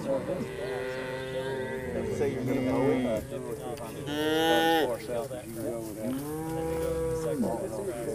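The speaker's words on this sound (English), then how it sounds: "Beautiful cow and calf." A cow and her calf on a sustainably managed ranch pasture moo repeatedly, with several long, drawn-out calls rising and falling across the stretch and standing out clearly close by.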